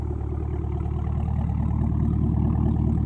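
A 2022 Chevrolet Camaro ZL1 1LE with a 10-speed automatic idles steadily nearby, its deep, even engine rumble holding at a constant level throughout with no talking.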